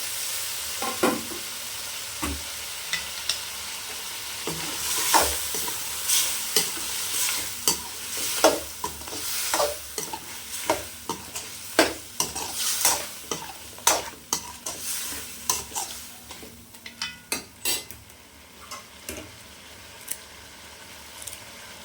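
Mutton fries in a pan with a few ladles of gravy, under a steady sizzle, while a spoon stirs and scrapes in quick repeated strokes, close and lively throughout.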